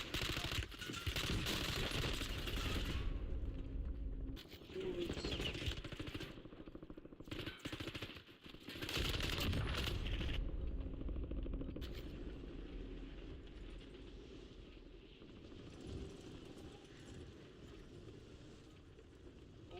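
Gunfire in Call of Duty Warzone, long bursts of rapid automatic shots with short pauses, loud and close, then easing into quieter distant battle noise.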